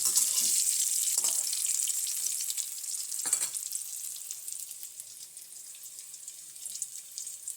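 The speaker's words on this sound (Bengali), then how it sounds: "লাল লাল করে ভাজা প্রায় হচ্ছে" Chicken pieces frying in hot oil with salt and turmeric, a steady close hiss of sizzling with occasional soft stirring scrapes, no voices.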